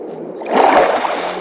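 A Minecraft player jumping off a bridge into water, a single close splash that swells and then trails off into a watery wash.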